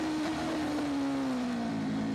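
Racing motorcycle engine at the Macau Grand Prix motorcycle race, holding a steady high-pitched drone that slowly falls in pitch as the rider shifts down toward first gear, loud and continuous with no talk.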